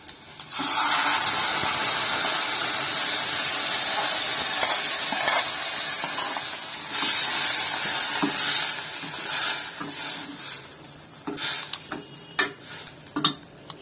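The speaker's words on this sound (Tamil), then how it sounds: "நம்ம இந்த வேக வச்ச பருப்பை இதில் ஊற்றிடலாம்." Boiled lentils poured and stirred into sautéed onions in a hot pan for colocasia leaf sambar, with steady sizzling and stirring, then a few utensil clinks and scrapes toward the end.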